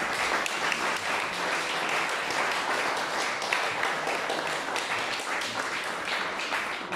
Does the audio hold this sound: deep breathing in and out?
no